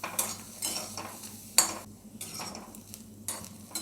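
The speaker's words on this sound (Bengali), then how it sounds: "এবার আমি এটা শুকনো একটু নেড়ে চেড়ে নেব, তেল দেবো না এর মধ্যে" Garlic, onion and green chillies are stirred in a dry pan with no oil. A spatula scrapes and knocks against the metal in a steady rhythm, close and fairly quiet.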